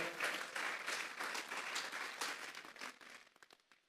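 A church congregation gives a burst of applause, dense clapping from many hands that rings out at the start and thins to scattered claps as it fades over a few seconds.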